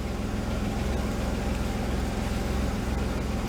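A GM 3.8-litre 3800 V6 idles steadily on its own with no throttle input, a low, even rumble that holds constant throughout with no voices.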